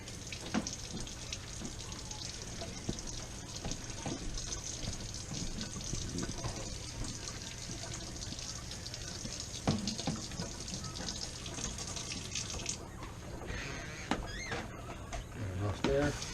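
Cold tap water runs steadily into a container for tempura batter, a continuous hiss and splash at close range with a person talking over it.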